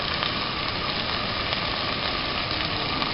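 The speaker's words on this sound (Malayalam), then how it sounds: "ഇതെല്ലാം ഒന്ന് നന്നായി വഴന്നു വരിക." Curry leaves sizzle in hot oil in a pan for Kerala-style fish molee, a steady close frying hiss with no talk.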